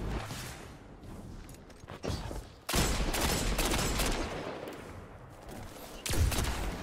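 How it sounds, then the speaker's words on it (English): Dense, continuous gunfire in the Destiny video game, with a trace rifle firing in long sustained bursts, loud and close, and brief gaps between the volleys. "he has a trace rifle"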